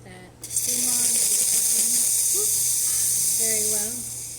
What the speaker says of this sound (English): I'm just going to show you that steam wand